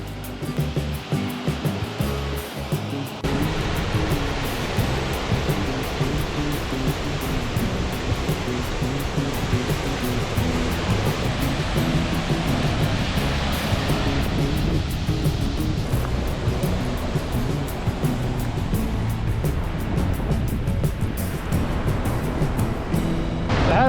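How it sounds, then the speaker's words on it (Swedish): Water crashing all around while standing in the middle of a waterfall that feeds a river, a loud, continuous, close-up rushing roar that holds steady throughout. "Ja, mitt i vattenfallet."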